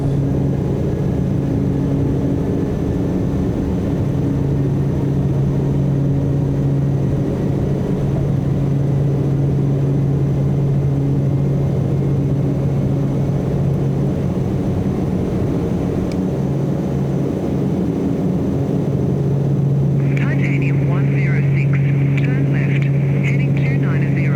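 Turboprop engine at full torque during takeoff roll in a flight simulator, a loud steady drone with strong low harmonics running throughout, a voice speaking over it near the end.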